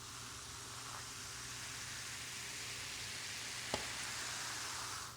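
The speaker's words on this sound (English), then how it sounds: "Listen to that sizzle" Sprite Zero fizzing steadily in a cup after being poured, a continuous close hiss of bubbles with one brief tap partway through.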